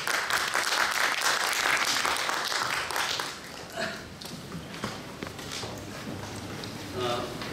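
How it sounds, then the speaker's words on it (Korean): Audience applause at a Christian academic society's spring conference in a lecture hall, a broad crackling wash of clapping that fills the opening seconds, then thins and fades under murmuring and a few stray claps. "큰 박수 한번 보여주십시오."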